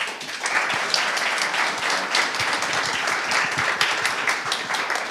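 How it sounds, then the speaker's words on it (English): A conference crowd in Berlin gives panelists a round of applause, a thick, even wash of many hands clapping at close range for the whole stretch. "can we please give a big round of applause to our amazing panelists?"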